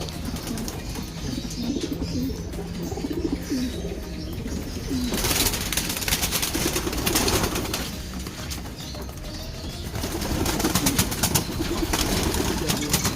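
Racing pigeons coo softly and repeatedly at close range before basketing, with occasional wing flaps and a steady background hum.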